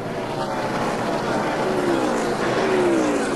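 NASCAR stock car engine easing off throttle heading into turn 1 at a 2002 race, a loud continuous roar with a falling engine tone as the revs drop, heard through broadcast crowd and track noise.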